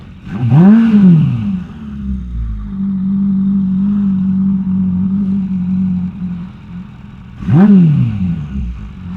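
A motorcycle engine with a side-mounted idle speed adjuster settles into a smooth, steady idle between two quick revs that rise and fall back, heard up close and loud.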